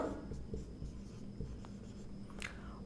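Faint pen or chalk strokes of someone writing by hand during a chemistry lesson on electronegativity: quiet, irregular scratching and tapping, close by, with no talk.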